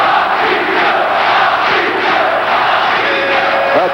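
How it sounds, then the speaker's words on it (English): A large, enthusiastic boxing crowd in an arena in Livorno, Italy, chants a fighter's name in a loud, rhythmic, pulsing roar that fills the space without pause. "Patricio, the name they have given him here in Italy, is being chanted by this enthusiastic crowd in Livorno"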